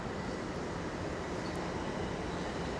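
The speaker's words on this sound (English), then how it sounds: "another train slowly lurching into the station" A quiet, steady low rumble of a subway train slowly arriving at a Toronto station rolls on continuously, muffled and somewhat distant, with no voices.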